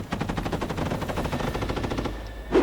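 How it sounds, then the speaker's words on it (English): Rapid bursts of automatic gunfire crackle in a dense, sustained volley during a trench assault in Ukraine, then break off before one louder close shot or impact near the end. "there's a flurry of activity and a hail of gunfire"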